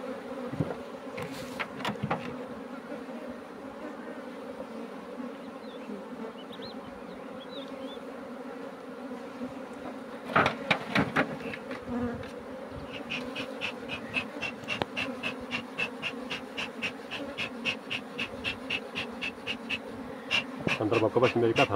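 Honeybees droning steadily inside an opened hive after a spring split, a dense close buzz throughout with occasional knocks and handling sounds, and no talk.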